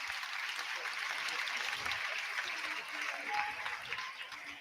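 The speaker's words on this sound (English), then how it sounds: "It's a good round of applause from the Tynemere stand" Distant football crowd applauding from the Tynemere stand during a Gateshead FC versus Tamworth FC National League substitution, a soft steady patter of clapping with a commentator talking over it.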